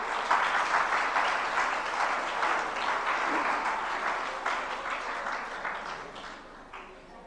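At a Jain religious gathering, a large seated audience claps loudly and continuously in honour of a trust committee member, the dense applause holding steady before easing slightly toward the close.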